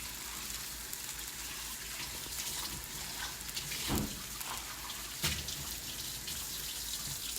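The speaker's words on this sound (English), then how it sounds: "Let me just rinse this off." Tap water running into a kitchen sink while something is rinsed off, a steady close splashing hiss with a few louder gushes partway through.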